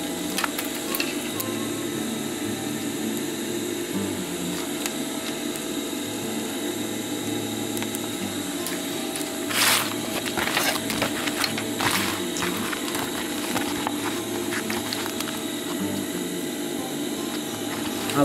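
A sewing machine stitches a zipper onto a chest pouch, a steady mechanical whirring hum that runs continuously at close range, with a few brief clicks and knocks midway.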